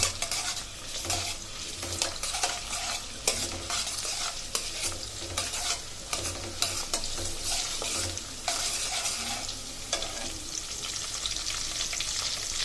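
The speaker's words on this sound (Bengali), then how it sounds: "এরপর এই তেলেই আমি কোরমা দিয়ে দিব" Onions frying in hot oil for beef korma, a loud continuous sizzle broken by frequent clattering stirs and scrapes of a metal spoon against the pot, close up and with no voices.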